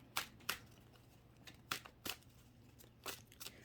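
A deck of tarot cards is shuffled by hand in several quick, crisp bursts separated by short pauses, quiet and close, with no speech.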